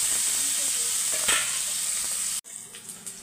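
Large onions, garlic cloves and a dried red chilli sauté in a hot pan, a steady close sizzle with a brief stir, then the hiss suddenly drops away and softer spattering follows.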